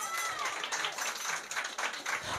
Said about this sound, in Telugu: కొట్టుబెక్కరగా చప్పట్లు.